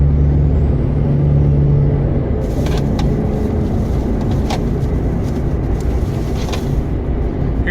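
Car driving on the road, a steady loud engine and road rumble running throughout, with a few brief clicks and knocks over it and a short high whine near the start.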